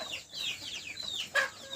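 Chickens on a small free-range farm of native country fowl, several birds clucking and chirping in quick overlapping calls at moderate distance, with one sharper, louder squawk near the end and no talk.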